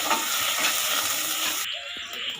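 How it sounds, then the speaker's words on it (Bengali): Ginger paste and turmeric powder frying in a pan for dal with pointed gourd, a loud close hissing sizzle with stirring that suddenly drops quieter near the end, leaving a softer crackle. "এবারে হলুদের গুঁড়োটা দিয়ে দিচ্ছি, যাতে আদাটা দিয়েছি না, এই জন্য গায়ে যাতে ছিটকে না আসে"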